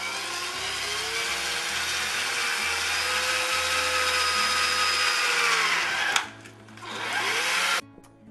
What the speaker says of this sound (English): And then just go ahead and drill.